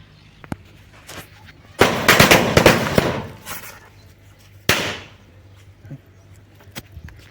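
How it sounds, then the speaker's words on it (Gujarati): A rapid string of loud firecracker bangs crackles for about a second, followed by a single sharp burst a few seconds later, then quiet. "બાકસ લઈ આવ્યા એને હવે ફોડશું આપણે ફટાકડો"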